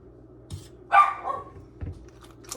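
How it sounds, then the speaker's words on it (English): Roxy the dog lets out a single sharp bark near the middle, close and fairly loud, with a couple of softer thumps and a quiet room around it. "That's somebody's here bark."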